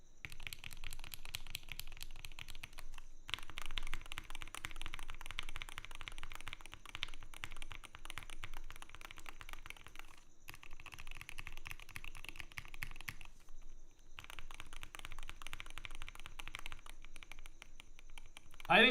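Typing on a Melgeek Cyber 01 rapid-trigger keyboard, a dense steady clatter of close keystrokes running almost continuously, with brief pauses and talking over the top.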